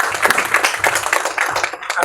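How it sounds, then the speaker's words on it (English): Close clapping welcoming a panelist at a cancer landscape panel discussion, a short burst of bright, uneven hand claps over about two seconds. "Please welcome him with a round of applause."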